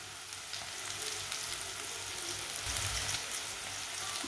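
Spinach, chopped spring onion and green garlic frying in a pan, giving a steady close sizzle and crackle with a low bubbling underneath, continuous throughout with no voices.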